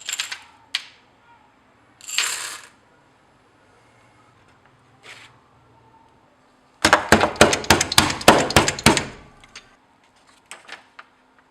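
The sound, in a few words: bashing ibuprofen tablets to crush them finer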